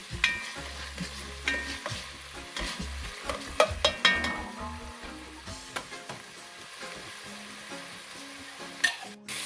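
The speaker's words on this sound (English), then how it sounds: "it's been a minute now since my onions and garlic has been cooking" Onions and garlic sautéing in a pan for a vegan dinner, a steady sizzle broken by repeated scraping stirs and light utensil clicks against the pan, close and clear with no talking.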